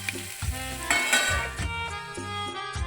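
Ivy gourd tossed and stirred in a pan, a soft sizzle running under repeated scraping strokes of the spoon, close and steady with no talking.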